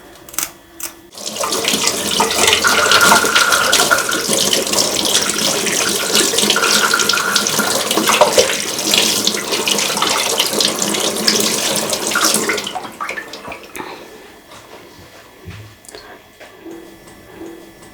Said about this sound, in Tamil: இப்போ இதை அப்படியே வாஷ் பண்ணி எடுத்துக்க வேண்டியதான்.